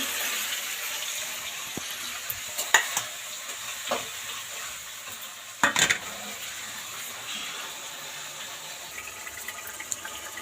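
Cumin, dried chili, ginger and tomato sizzle and fry in a pan as a masala base for dal, a steady hiss broken by a few sharp stirring clinks and scrapes, with no talking.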